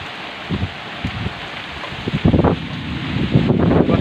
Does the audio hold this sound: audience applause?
no